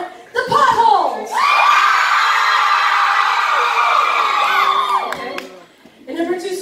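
A concert audience at a tour show in Detroit screams and cheers loudly. A sustained roar of high-pitched shrieks holds for several seconds between brief stretches of talking at the start and end.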